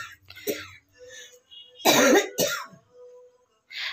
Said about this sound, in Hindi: अम्मी को काफी दिन से खांसी है